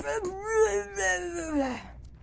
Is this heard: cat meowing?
yes